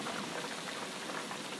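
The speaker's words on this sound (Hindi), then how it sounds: "बारिश बहुत तेज है" Heavy stormy rain pours down in a short, even hiss, steady and fairly soft throughout, with no voices over it.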